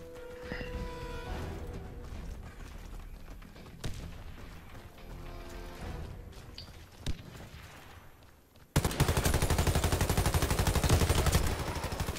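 XMA weapon fire in a shooter game comes as scattered, moderately loud shots over a busy game soundscape, then turns into a sustained, loud burst of rapid gunfire for the last few seconds.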